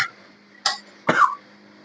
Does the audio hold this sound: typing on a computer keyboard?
no